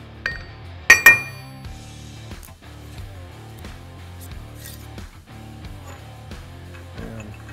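An Eaton FRO16210C transmission reverse gear is set onto the main shaft, with a sharp metallic clink near the start and then softer scattered taps and knocks of steel parts in a quiet workshop.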